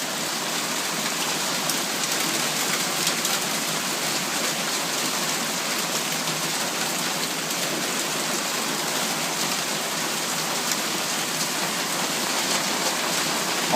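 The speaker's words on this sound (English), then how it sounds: "This is the worst hailstorm" Hail pours down hard on the ground and surfaces during a severe Calgary hailstorm, a dense, loud, unbroken hiss and patter that holds steady throughout with no talk.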